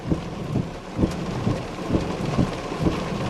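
Heavy rain hisses steadily through a storm outside a town in Merlin, Ontario, with low rumbling thunder pulses repeating roughly every half second beneath the downpour.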